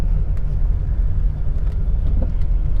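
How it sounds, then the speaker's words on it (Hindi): A car creeping forward in slow city traffic, a steady low engine and road rumble inside the cabin with faint traffic noise around it. "तो मैं मूव कर रहा हूँ अपनी कार को।"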